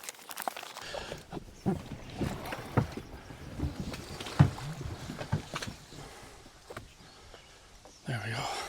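A small dinghy on the water on a summer morning outing, with low splashing and hull knocks under wind rumble and people chatting nearby, and a louder rush near the end.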